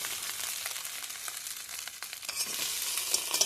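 Overcooked chowmein noodles sizzle in a pan while being stirred and broken apart, a soft bright frying crackle with irregular scraping stir strokes, fairly quiet and without voices.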